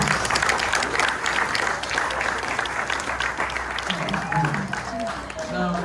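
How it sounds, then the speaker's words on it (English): Audience applause for dancers at a Polynesian Cultural Center Hawaii show, a steady wash of clapping sustained for several seconds, with voices mixed in underneath. "How about a round of applause for our dancers?"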